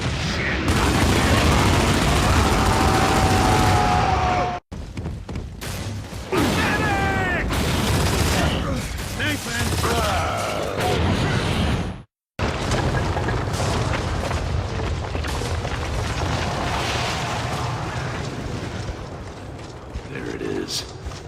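Heavy explosions and bursts of gunfire in the Gears of War 2 video game, as a building comes under fire, with loud booms, rumbling debris and brief cutouts, plus shouting voices over the battle.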